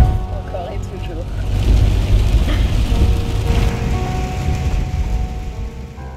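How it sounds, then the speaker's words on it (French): Heavy rain drums steadily on a car while driving in Portugal, a dense loud wash over low engine rumble throughout, with a voice speaking briefly. "Il pleut toujours."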